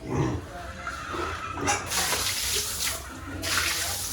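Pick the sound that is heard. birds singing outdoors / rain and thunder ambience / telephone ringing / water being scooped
water being scooped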